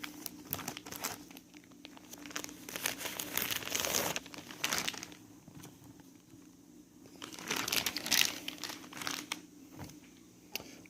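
A plastic bag holding about ten old books crinkles close up in two longer bursts of handling, with quieter rustling between and no talk over it.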